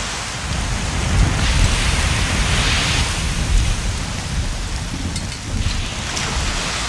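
A storm in the video game Risen 2, with steady heavy rain pouring loud and close, low rumbling thunder rolling underneath throughout.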